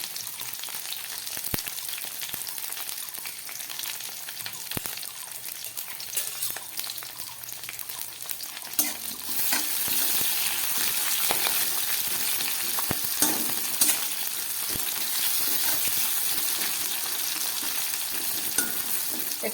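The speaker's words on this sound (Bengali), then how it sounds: "এবার দিয়ে দিচ্ছে একটু ক্যাপসিকাম" Capsicum fries in a pan for a vegetarian curry, giving a close, continuous sizzle that grows louder partway through, broken by repeated scraping and clacking of a stirring spoon, with no talking.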